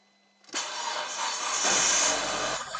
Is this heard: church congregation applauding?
no